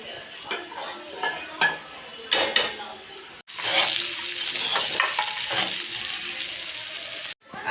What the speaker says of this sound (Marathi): आता आपण खिचडी टाकू।